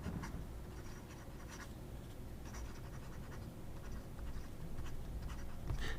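An aluminum Vazir Checkmate fountain pen with a wet, broad nib scratches steadily across paper in short strokes, close and faint, with no voices.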